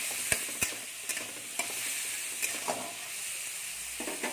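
Tomatoes and vegetables with broad beans, eggplant, drumsticks and rohu fish fry in a pan, a steady bright sizzle punctuated by sharp spatula scrapes and taps at an uneven rhythm, close and with no talking.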